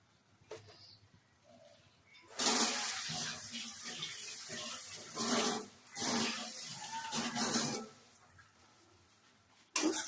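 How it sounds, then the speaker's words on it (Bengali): Hands are washed under a running kitchen tap, with water gushing in several bursts of varying strength between quieter pauses, close by. "হাতটা একটু ধুয়ে নিই।"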